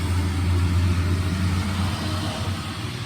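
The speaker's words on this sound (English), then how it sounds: "There's a lot of cars out today." Cars travel along a road, producing a steady, fairly loud low engine rumble that holds throughout with no speech.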